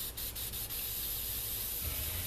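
White spray paint sprays onto fingers and splatters off, giving a steady close hiss throughout with a few quick puffs near the start and no talking.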